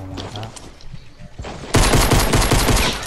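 Rapid automatic gunfire in Fortnite erupts after a few scattered shots, becoming a loud, dense burst of rattling fire that lasts to the end.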